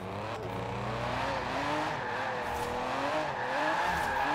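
Baby Aston car in Forza Horizon 4 spinning its rear wheels under hard throttle, a continuous engine drone with shifting harmonics and tire squeal running steadily throughout, no talk.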